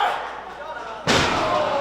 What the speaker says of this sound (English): With a scoop and power slams Classic into the mat